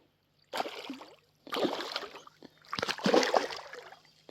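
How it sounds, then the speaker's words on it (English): Water sloshes and splashes beside a small boat during pike fishing on a pond, in three distinct bursts: a short one, then two longer, busier ones, each separated by brief quiet. "Can you quit splashing me?"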